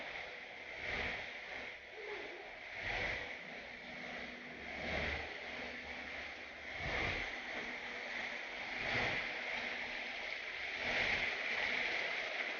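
Waterfall splashing in an indoor Hawaii-style exhibit, a steady moderate rush of falling water that carries on through the whole stretch with no voices over it.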